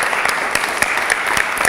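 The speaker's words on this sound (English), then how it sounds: "Survivors, a big round of applause for all of our survivors." An audience applauds the survivors, a dense, lively burst of many hands clapping together, fairly loud and close throughout, with no speech over it.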